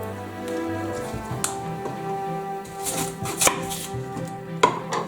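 Knife chopping through Christmas cake kit ingredients on a board, a run of sharp taps and cuts with a few louder strikes near the end, close and clear with no talking.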